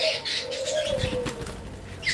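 A pet pigeon flaps off with a quick burst of wingbeats, followed by soft cooing and small chirps nearby, brief and moderately quiet.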